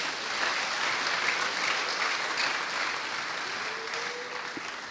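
A church congregation applauding and acclaiming, a steady wash of crowd clapping that fades slightly toward the end, with faint voices mixed in.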